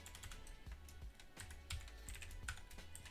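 Typing on a computer keyboard while setting up a private photo storage system: quiet, rapid irregular key clicks with a few heavier taps, close and soft, with no voices.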